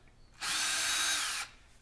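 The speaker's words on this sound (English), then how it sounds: "we go back and clean them up and re-drill them" A power drill re-drills holes in sections of a 4-inch rocket airframe in one short burst of about a second, a loud high whine that starts and stops abruptly against quiet.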